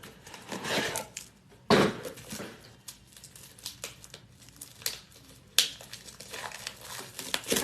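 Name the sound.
paper labels being loaded into Rollo label printer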